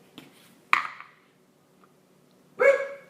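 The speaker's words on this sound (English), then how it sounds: "Yes, my dog just barked." A dog barks indoors during a kitchen blender recipe session: a couple of sharp, fairly close barks a moment apart, then a louder, fuller bark after a pause, with no talking over them.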